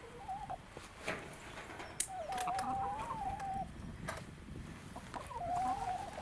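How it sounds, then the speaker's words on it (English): Backyard chickens cluck and call softly while eating fresh green grass outdoors at sunset, with several short wavering calls spread over a few seconds against a quiet, breezy background. "now that the chickens are happy, eating their green grass"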